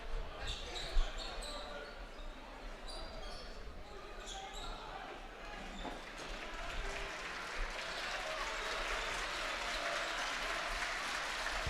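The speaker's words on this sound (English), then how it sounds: "Patriots fan clapping." Basketball fans clap during a high school varsity game in a gym, with steady crowd noise and sneaker squeaks and a ball bounce in the background; no one speaks.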